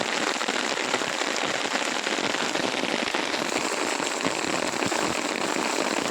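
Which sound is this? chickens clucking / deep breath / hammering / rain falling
rain falling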